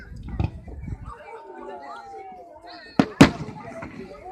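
Fireworks at Keansburg pop and bang, with two sharp close explosions near the end and fainter crackles earlier, while people chatter and talk nearby.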